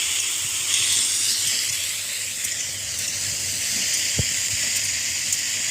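Mixed vegetables fry in a pan for a sandwich filling, cooked until soft and mashed, giving a steady loud sizzling hiss with faint scattered pops and a light knock of a utensil.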